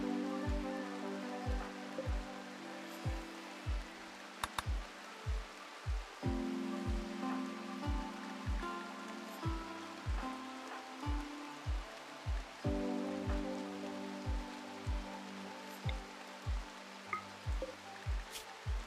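Steady rain ambience in the video game RimWorld, a continuous hiss of falling rain with regular soft thumps and a low tonal music bed underneath, no voices.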